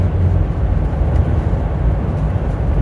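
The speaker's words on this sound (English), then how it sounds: "here comes the truck" A truck doing about 80 on a New Mexico highway rushes past as a broad, loud, steady roar of engine and wind, heard from inside a moving vehicle cruising at 65.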